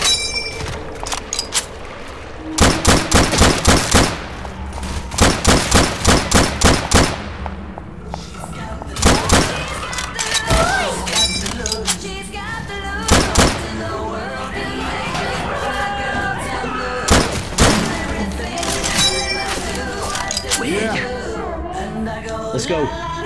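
Rifle fire in the zombie shooter Left 4 Dead 2 cracks out in rapid loud bursts of shots, spaced with pauses and scattered thumps, over other game noise with brief talk.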